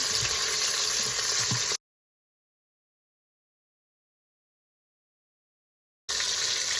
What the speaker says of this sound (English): Okay, the sides are seared up nicely, and we'll go on to the bottom.